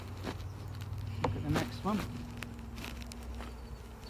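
Honeybees flying around an open hive, a faint low buzzing drone with passing whines of individual bees close by, heard under quiet talk and occasional handling noises.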